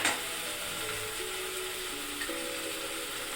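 Ginger garlic paste sizzling in hot oil in a pan for biryani, a steady, even frying hiss with faint stirring scrapes, fairly quiet and continuous with no talking.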